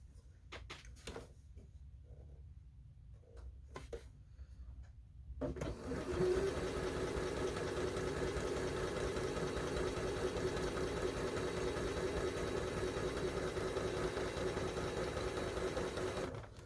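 A sewing machine stitching a star-in-the-window quilt runs steadily and close by for about eleven seconds after a quieter stretch of scattered handling noises.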